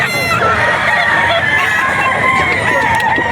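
A Banderado Sweater gamefowl rooster crows loudly and close at a busy pet market, its long call ringing over steady background crowd noise.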